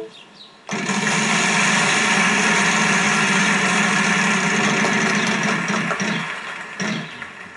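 A prize wheel spins in the Wheel of Fortune game for PS3 with a loud, continuous rapid clicking whir that starts abruptly and runs for about six seconds before tapering off.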